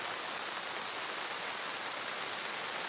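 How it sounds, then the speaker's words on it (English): Steady rain falls through a forest in Lower Bucca State Forest, a dense, even hiss of drops that stays constant and close throughout with no pauses or voices. "The rain sounds nice, yeah."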